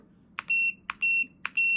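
An Epomaker Cypher 21 calculator keypad gives its power-on signal: three short, bright electronic beeps at an even pace, each starting with a soft click and then holding a steady tone. The beeps are close and clear over near silence.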